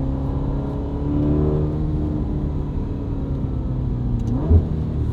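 A car engine hums steadily, its pitch climbing and then dropping as it accelerates through a crisp, fast gear change, with no voices.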